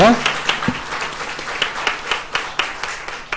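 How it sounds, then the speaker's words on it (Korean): Brief scattered clapping at a Sunday church worship service, a small congregation giving a short round of applause with irregular claps under faint background voices. "우리 모두 축복의 박수 하겠습니다"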